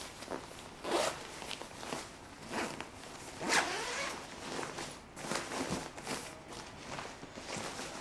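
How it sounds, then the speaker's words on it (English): A zip on a Macna Vosges motorcycle jacket with removable inner layers is pulled several times, giving short rasping strokes close to the mic over steady fabric rustle and handling noise. "you can take both layers out with just the one zip there"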